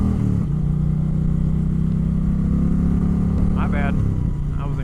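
A 2025 Indian Chieftain Powerplus Dark Horse motorcycle engine revs in neutral, a loud, close, steady low rumble that swells and then drops back. A voice speaks briefly over it near the end.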